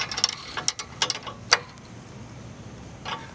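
A wrench tightens a nut on a 2020 Scag V-Ride II 32-inch mower, giving a few quick close ratcheting clicks and metallic ticks, then a brief pause and one more faint click.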